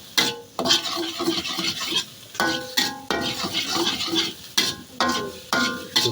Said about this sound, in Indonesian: Goreng kita yang ini.